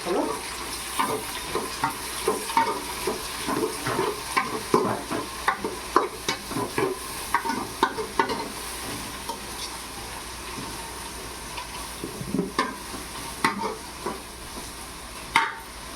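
Cut tomatoes sizzling in a hot pan, a continuous frying crackle broken by repeated scraping stirs of a spatula, close and without talking.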